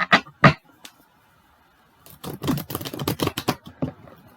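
A tarot deck is shuffled at close range, with a few sharp card snaps first, then a short pause, then a dense run of rapid riffling clicks.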